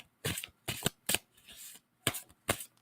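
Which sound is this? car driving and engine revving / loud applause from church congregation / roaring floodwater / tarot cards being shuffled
tarot cards being shuffled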